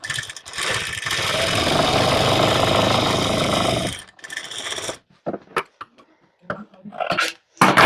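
A sewing machine runs steadily for about four seconds while stitching a second seam along a blouse strip, then stops. Brief scattered knocks and handling noises follow.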